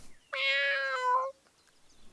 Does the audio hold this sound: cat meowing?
yes